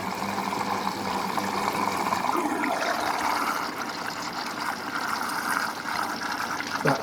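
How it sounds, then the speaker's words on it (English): Inside a Hoover Vision Dynamic washing machine, model DYN9154DBX, running in test mode, water squirts steadily onto the side of the drum, a continuous close hissing gush with a slight shift partway through and no voices. "it is squirting the water in on the side of the drum as well"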